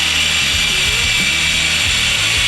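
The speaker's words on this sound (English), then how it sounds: "we're gonna try and fucking hit it with the grinder, cut a slot in it to get it out" An angle grinder cuts a slot into a rounded bolt on a BMW E36 differential, a steady loud whine of the disc biting metal held continuously without pause.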